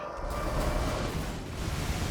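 A video game explosion bursts into a dense, roaring wash of noise that rumbles loudly and evenly through the whole moment, with no voices over it.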